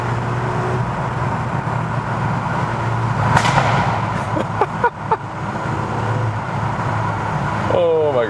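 A loud 320 hp 2021 Volkswagen Golf 8 R exhaust roars and echoes in a tunnel, with a rising burst and sharp pops and crackles, then a revving surge at the end.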